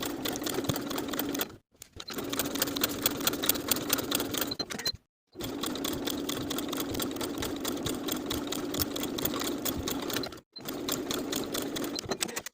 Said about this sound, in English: we're going to stitch them in place, edge stitching close to the folded edge.